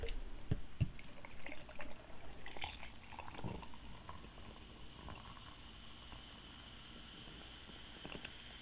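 Pepsi Mango soda is poured into a cup with a soft, fizzing trickle at low volume that settles into a steady faint hiss.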